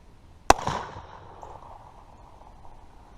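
A single loud, sharp report from a Pietta 1851 Navy .44 caliber revolver at an outdoor target range, followed by a trailing echo that fades over a few seconds.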